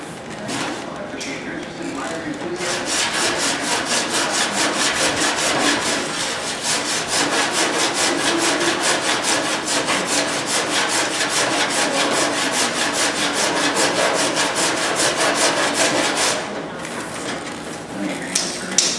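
Metal is rubbed smooth to remove file marks, giving a continuous rasping, scraping stroke sound that runs steadily for most of the stretch, close and fairly loud.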